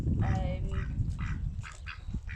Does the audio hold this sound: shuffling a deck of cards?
no